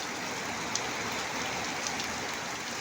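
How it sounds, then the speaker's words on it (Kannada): Heavy rainfall in Kembhavi drums down around coconut and curry leaf trees, a close, even wash of countless drops hitting surfaces without pause. "ಜೋರಿದೆ ಮಳೆ"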